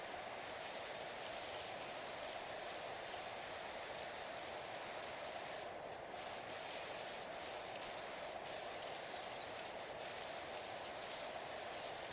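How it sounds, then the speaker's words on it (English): A pressure washer in PowerWash Simulator blasts dirt off a car, giving a continuous, even hiss of spray that holds steady throughout with no talking. "this is so satisfying to spray the dirt off"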